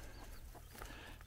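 Faint, brief clucking from chickens on a homestead in Andalusia, Spain, against a low background hum, no talking.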